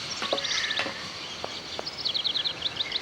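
Birds chirp in the Syberia video game, with rapid high trills in two bursts over a steady hiss of ambient noise and a few soft clicks.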